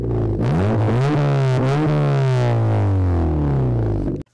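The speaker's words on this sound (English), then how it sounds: "louder than a rooster cackling at 5 in the morning on Thanksgiving Eve, freaking fart can." A modified car with a loud aftermarket fart-can exhaust revs hard and close, its raspy harmonic note climbing and dipping through several throttle blips before cutting off abruptly near the end, with no talking over it.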